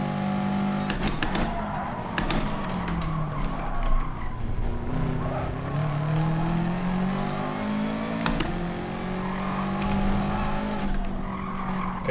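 A race car in Gran Turismo Sport on PS5 brakes hard, tires squealing in long sliding skids over a droning engine that drops and then revs again.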